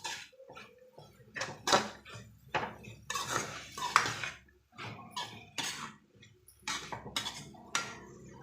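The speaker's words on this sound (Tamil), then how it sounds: "பச்சை வாசனை போகிற அளவு வணக்கி எடுத்துக்கலாம்." Chutney ingredients sautéing in a pan, heard as a series of metallic scrapes and clinks of a spoon against the pan in irregular bursts with quiet gaps between, close by and with no voices.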